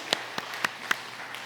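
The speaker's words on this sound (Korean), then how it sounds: "하나님 영광 박수 드리겠습니다" Sparse, faint handclaps from a church congregation during a Sunday worship service, a few separate claps in slow succession rather than full applause.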